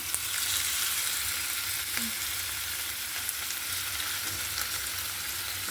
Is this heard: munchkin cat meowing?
no